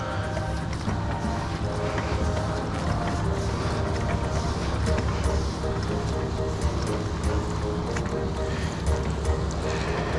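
Water sprays onto a solar panel during a rinse, a steady, close broadband hiss that holds evenly throughout.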